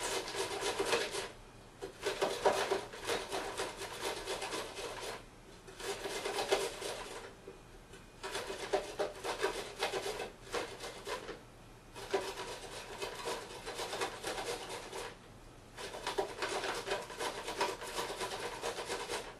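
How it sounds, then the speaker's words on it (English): Carrots being grated by hand on a grater, a steady rasping scrape in rhythmic bursts of strokes separated by brief pauses, close and fairly loud with no talking. "we're going to grate our carrots directly into it"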